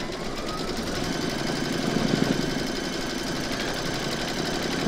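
A domestic sewing machine quilts a scalloped square placemat, its motor humming in a fast, even, close chatter that runs throughout.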